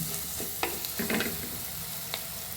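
Masala spices fry in oil for a dry mango curry, giving a steady close sizzle with a few brief scraping stirs and no talk.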